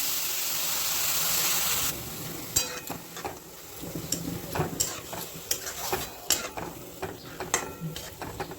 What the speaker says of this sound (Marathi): आता आपण दूध घालायचं।